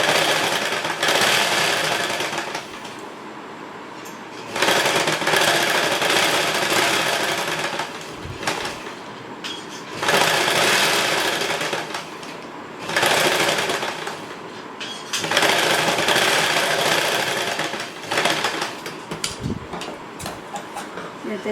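A sewing machine stitches a lining blouse in repeated bursts of a few seconds each, its whirring needle loud and near, broken by short pauses as the fabric is repositioned.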